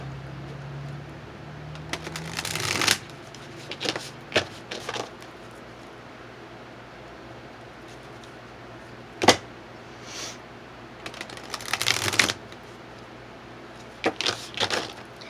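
A tarot deck being shuffled for a reading, brief soft riffling and card flicks in scattered bursts with quiet gaps between them, close and alone without talk.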